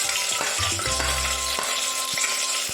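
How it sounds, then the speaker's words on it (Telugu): Onions fry in hot oil with cloves, cardamom and shahi jeera for vegetable pulav, a steady close sizzle with a few soft stirring scrapes and knocks. "గోల్డెన్ బ్రౌన్ వచ్చేంత వరకు ఫ్రై చేసుకోవాలి."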